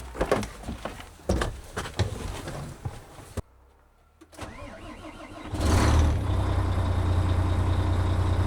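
A truck engine cranks and catches after a short silence, then settles into a loud, steady diesel idle as its air system fills, with earlier clanks and knocks before the start.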